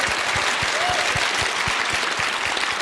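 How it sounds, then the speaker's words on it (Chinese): A studio audience at a Chinese job-hunting TV show claps in a dense, steady burst, loud and close, with sharp rhythmic claps over a wash of crowd applause. "掌声应该再热烈一点嘛"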